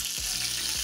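Hot oil sizzles steadily and close up in a small tempering pan heated for a raw mango dal, giving a continuous crackling hiss with faint pops.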